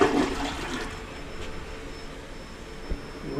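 A household toilet flushes with a loud initial rush of water, then settles into a steady hiss and trickle as the tank refills, with a faint clunk near the end.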